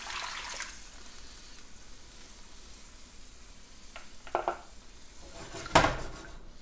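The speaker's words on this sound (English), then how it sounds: "We're going to add all of our braising liquid that we strained off earlier." Strained braising liquid from short ribs goes into a hot pan for a mushroom sauce, giving a soft steady sizzle with a few clinks of utensils and pan, faint and close with no talk.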